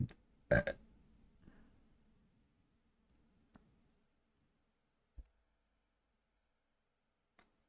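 A single loud burp close to the mic, followed by a few faint clicks and taps in an otherwise quiet room.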